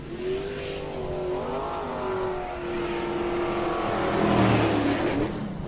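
Stock cars racing down the front stretch of a speedway, engines droning and revving with a rising pitch, swelling louder near the end as they pass close by.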